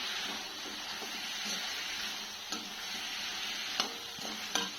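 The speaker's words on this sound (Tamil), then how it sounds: "ஒரு 2 கை அளவுக்கு சின்ன வெங்காயம் எடுத்து வதக்கிக்கோங்க" Steady frying sizzle of shallots, tomatoes and spices sautéing for a country chicken curry, with stirring, a few sharp clicks of a spatula against the pan, close and continuous with no talking.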